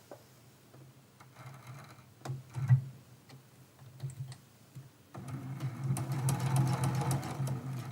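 A sewing machine runs a straight stitch at 2.4 length along the inside edge of a quilt appliqué. A few light taps come first, then a steady, close mechanical whir that continues to the end, with no voices.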